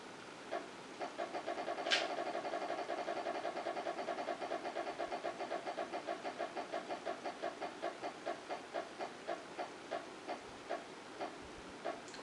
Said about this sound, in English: Spin the wheel.